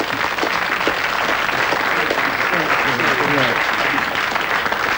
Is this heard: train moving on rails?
no